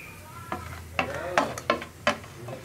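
Fried coconut pieces are tossed into a pan of sizzling beef roast and stirred, giving several sharp scraping clatters over a soft steady sizzle.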